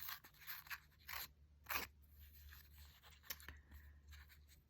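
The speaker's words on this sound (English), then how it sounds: "So I'm going to tear this all the way around." Paper is torn by hand around a collage piece in a series of short, crisp ripping bursts with brief pauses between them, heard close up and fairly quiet.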